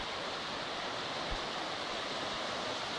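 Pala-U Waterfall in Thailand gives a steady, even rush of falling water, a dense hiss with no breaks or voices.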